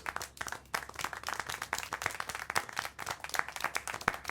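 Sustained applause with many hands clapping in a dense, crackling burst, fairly close and steady throughout, with no talking over it, from the video game Syberia: The World Before.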